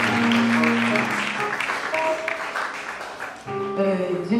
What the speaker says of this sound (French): Applaudis les musiciens au moment ça.